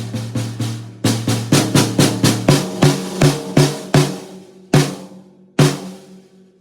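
Sharp, ringing snare drum hits played with no wallet dampening, struck in a loose rhythm of about a dozen strokes with long bright decays, close and loud, no voices.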